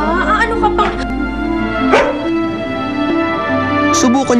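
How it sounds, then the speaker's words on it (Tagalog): A dog barks and yips in short bursts amid a heated domestic confrontation, with loud, agitated voices talking over it almost throughout. "Ikulong niyo ang aso na yan!"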